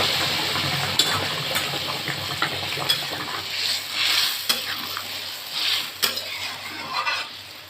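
Spice tempering with radhuni is poured into a taro (gathi kochu) curry with tilapia and stirred, giving a steady close sizzle and frying hiss with scattered clinks of a utensil against the pan.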